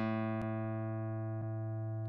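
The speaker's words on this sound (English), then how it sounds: "and here's the guitar." A guitar sounds a sustained low note with a 110-hertz fundamental, its rich overtones ringing steadily and slowly fading, loud and close, with a couple of faint clicks and no talking.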